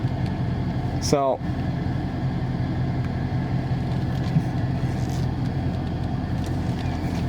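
A Dodge Charger Scat Pack creeps slowly into a parking spot, its engine a low, steady idle rumble close by, while someone talks briefly over it at the start.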